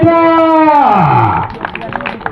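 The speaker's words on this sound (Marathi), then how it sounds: "हा अशा खडखडीत टाळ्या" Spectators clap at a village wrestling bout in an akhada during the Kumbale temple fair. An announcer's drawn-out shout comes first, then a rough patter of clapping that holds steady for about a second.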